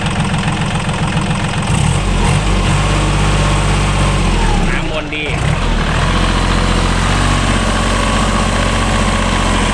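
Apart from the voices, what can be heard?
Kubota L3008 tractor engine revving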